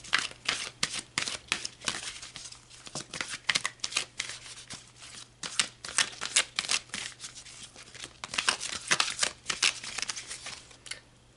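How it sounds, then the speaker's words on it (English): Tarot cards being shuffled close up in repeated quick bursts of riffling and slapping, a faint steady hum running underneath throughout. "let's pull some more cards"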